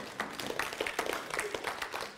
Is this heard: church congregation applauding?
yes